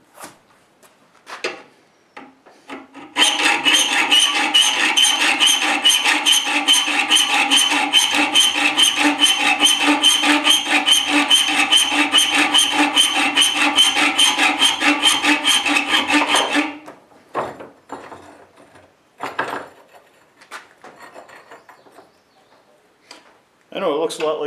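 Steady hand files rasp across a stone arrowhead in a long, loud run of continuous strokes that goes on for about thirteen seconds, framed by brief scrapes and quiet handling before and after.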